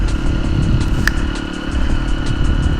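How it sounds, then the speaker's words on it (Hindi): Hero Impulse dirt bike fitted with a loud Akrapovic exhaust, a close, steady low engine rumble with a rough, throaty texture and a brief sharper rattle, heard alone. "ये एक्रापोविक M का जो एग्जॉस्ट लगा हुआ है वो बहुत ही मतलब लाउड है"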